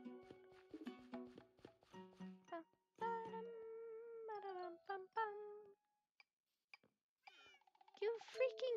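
Repeated Minecraft cat meows, some high and drawn out, mix with a person talking nearby, with short pauses of quiet between.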